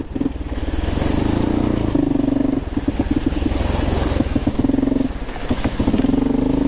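Single-cylinder overhead-cam engine of a Suzuki LT230E Quadrunner ATV in need of carb tuning, droning loud and close while riding, with a steady throttle that dips and surges into short revving bursts throughout.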